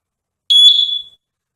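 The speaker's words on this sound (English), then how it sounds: "That is a smoke alarm and fire detector." One short high-pitched electronic chirp from a smoke alarm and fire detector, sharp and clear, fading quickly into silence.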